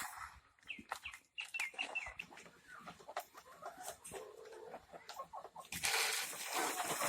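Desi country chickens cluck and chatter close by while pecking at an azolla and grain feed mix, with irregular short calls and scratchy rustling that grows busier toward the end.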